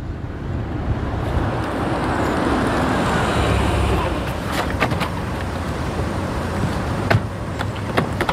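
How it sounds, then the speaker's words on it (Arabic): A car drives along a road at speed and slows to pull over, a steady loud rumble of road and wind noise that eases off, with a few clicks and thumps near the end. "وقف السيارة على جنب"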